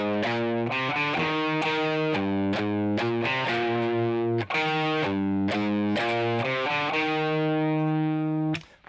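A heavily distorted electric guitar chugs through a main riff, dense palm-muted notes in a driving rhythm, loud and up close, ending on a long sustained chord with no talking.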